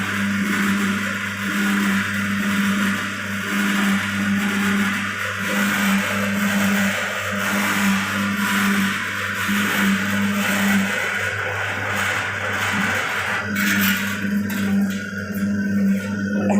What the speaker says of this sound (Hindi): मिक्सर को बंद कर लें।